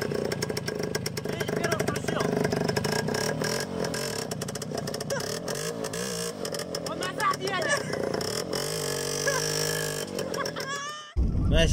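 A small Voskhod motorcycle engine chugs and revs unevenly up close, rising and falling in pitch, with a voice talking over it before it cuts off.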